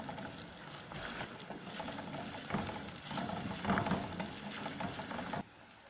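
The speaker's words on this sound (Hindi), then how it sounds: "ऑयल हमारा गर्म हो गया है, अब हम इसमें सबसे पहले प्याज डाल देंगे" Onions frying in hot oil for bhindi salan, a steady close sizzle with soft stirring scrapes rising and falling for several seconds before dropping away near the end, no talk.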